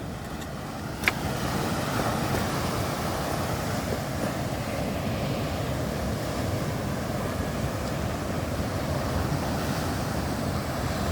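Big ocean waves crash on the shore at Tigbauan, Iloilo, Philippines, roaring continuously with heavy wind buffeting, a loud, dense wash of breaking surf after a brief bump at the start.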